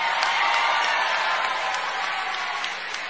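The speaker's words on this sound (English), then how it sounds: "that crowd of democracy defending Democrats were all cheering" A large crowd cheers and applauds at a Joe Biden speech, a steady broad roar of clapping and voices held at an even level throughout without letting up.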